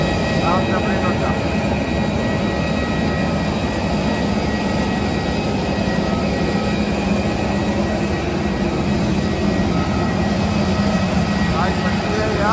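Airplane jet engine during a flight between Mumbai, Delhi and Srinagar, a steady loud cabin roar with constant broadband rumble throughout, voices faintly in the background.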